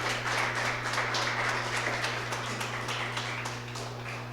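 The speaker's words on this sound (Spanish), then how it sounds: "Denle una ofrenda de aplausos al Señor" A church congregation applauds as an offering to the Lord, a steady wash of clapping that keeps going at an even level throughout, with a low steady hum underneath.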